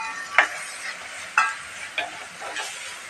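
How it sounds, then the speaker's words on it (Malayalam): A ginger, garlic and mustard paste fries in a pan for fish curry. It gives a steady sizzle broken by several scraping stirs of a spoon at irregular intervals, close and moderately loud with no voices. "ഈ ഇഞ്ചിയും വെളുത്തുള്ളിയും കടുകും കൂടെ അരച്ച പേസ്റ്റ് കൂടി ഇട്ട് കൊടുക്കാം"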